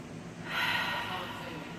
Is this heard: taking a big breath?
yes